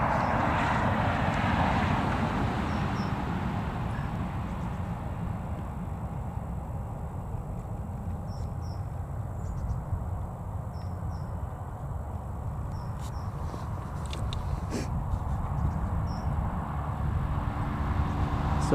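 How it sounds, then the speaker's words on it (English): KLM airliner departing Newcastle Airport for Amsterdam, a steady distant jet engine roar held throughout, swelling slightly near the end, with faint insect chirps over it. "So we've got the KLM now, heading back to Amsterdam Schiphol"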